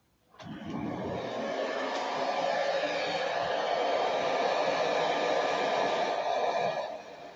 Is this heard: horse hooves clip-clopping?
no